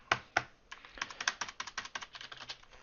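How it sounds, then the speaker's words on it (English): Typing on a computer keyboard: a quiet, close run of uneven key clicks with a few heavier strokes, alone without talk. "I can't multitask when I'm typing at the same time."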